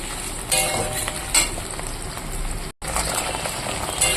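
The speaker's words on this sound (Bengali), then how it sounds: "পেঁয়াজ দিয়ে দিয়েছি পেঁয়াজটা এর সঙ্গে আমি লাল লাল করে ভেজে নেব" Onions sizzle in hot oil in a pan after spices have been tempered. The frying is steady and close, with a few sharper bursts of stirring early on and a brief dropout partway through.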